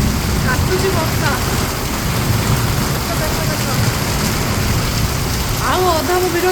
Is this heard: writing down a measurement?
no